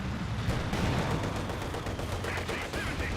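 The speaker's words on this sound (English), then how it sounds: "Let's go for a high explosive barrage somewhere" Mortar high-explosive barrage in Company of Heroes 2, a dense rumble of booming impacts and crackling gunfire that runs continuously through the clip at steady loudness.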